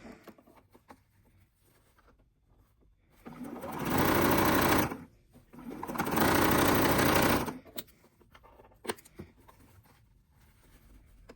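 Sewing machine stitching quilt scrap strips, two loud sustained runs of rapid whirring of a second or two each, separated by quiet pauses with small handling clicks, close up and without speech.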